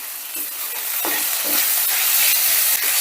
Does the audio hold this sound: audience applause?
no